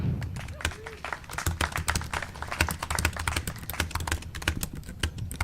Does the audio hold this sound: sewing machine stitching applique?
no